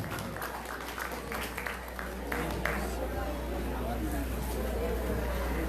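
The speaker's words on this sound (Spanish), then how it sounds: "Fuerte los aplausos para Luz Marina." Steady crowd applause at a Peruvian Ayacucho song contest fills the space, a dense wash of clapping that swells slightly partway through, with a low constant hum underneath.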